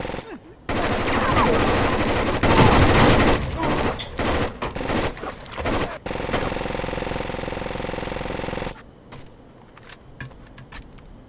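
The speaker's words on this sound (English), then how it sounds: "this fucking machine gun!" Automatic machine gun fire in the tactical shooter Rainbow Six Siege, dense continuous bursts with explosive blasts, loud and close, easing to scattered shots near the end while players call out over it.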